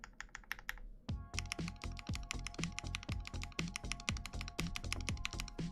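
Mechanical keyboard, a KBD67 Lite fitted with Durock V2 switches, typed on in a quick, steady run of crisp, close keystrokes that begins after a second of quieter clicking, with no voice over it.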